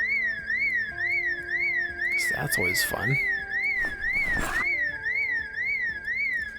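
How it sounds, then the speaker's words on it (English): A house alarm wails in the game Project Zomboid, a steady rising-and-falling electronic tone with harmonics, sounding continuously throughout while someone talks over it. "Set off a house alarm."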